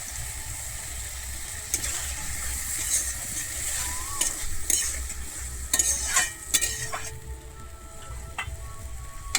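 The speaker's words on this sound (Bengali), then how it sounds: "এরপরে আমি একটু জল দিয়ে দিচ্ছি" Tomato masala frying in a pan while water goes in, for a Bengali koi fish curry with taro; a steady close sizzle runs throughout with scattered stirring clicks and a brief hiss.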